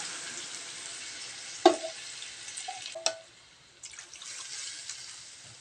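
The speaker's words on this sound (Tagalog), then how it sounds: "Pagkatapos ng 1 minuto, ilagay na natin yung pineapple juice" Pork humba sizzling in a pan as pineapple juice is poured in, a quiet frying hiss broken by two sharp splashing bursts, then the sizzle settles and continues faintly.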